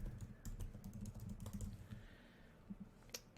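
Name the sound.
typing on computer keyboard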